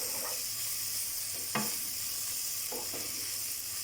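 Vegetables get stirred in a very hot pan, a soft continuous sizzle broken by a few scraping strokes of the utensil, fairly quiet and without speech.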